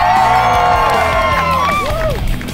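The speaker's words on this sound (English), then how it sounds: "And the crowd is here and they are going wild." Spectators cheer, whoop and shout at a stand-up paddleboard relay race, a loud, continuous crowd roar with high excited yells rising over it, close and steady throughout.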